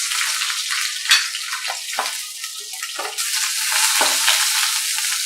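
Eggplant hitting hot oil in a pan, a loud, dense close-up sizzle that dips briefly and surges again, no voices.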